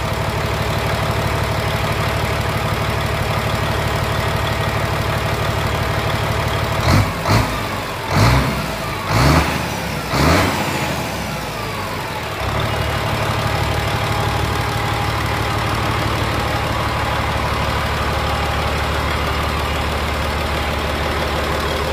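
An engine idles at low speed with a steady, loud rumble, briefly broken midway by a few sharp revs or knocks before settling back to an even idle, with no talk.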